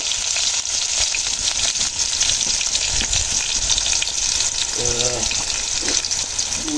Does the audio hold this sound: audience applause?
no